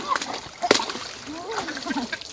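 A child splashes while learning to swim, with sharp bursts of water splatter and sloshing close by, as voices talk and call out over the splashing.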